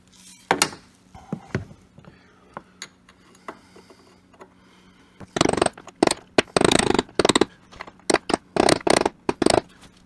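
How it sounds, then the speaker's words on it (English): Sharp metallic strikes of a larger hammer ring out while fixing a door hinge, sparse at first, then a dense run of heavy, rapid blows close by, with no talking. "Now we'll use the bigger hammer."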